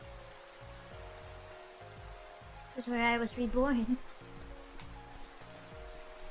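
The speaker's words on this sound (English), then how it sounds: "It is raining, isn't it?" Steady rain patters softly on a surface throughout, a faint continuous hiss beneath a brief spoken line in the middle.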